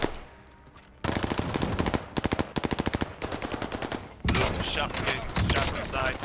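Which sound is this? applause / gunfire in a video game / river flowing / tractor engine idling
gunfire in a video game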